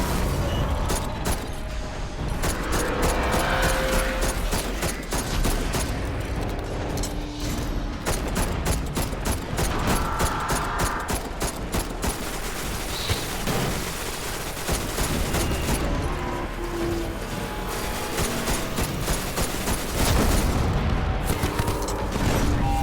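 Rapid, sustained gunfire from the Destiny: Rise of Iron video game during the Gjallarhorn exotic quest. It comes as dense bursts of shots mixed with booms and mechanical clatter, loud throughout with no pauses.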